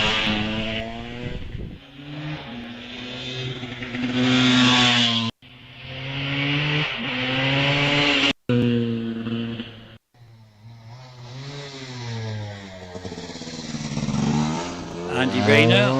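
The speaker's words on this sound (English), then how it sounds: "the first motorcycle is away, number 244, heading round Wiz and up across the front of the house here" A KTM motorcycle races up the Wiscombe Park hillclimb with a loud, sustained engine note that climbs in pitch through the gears, with brief cuts at the shifts and a commentator talking over it.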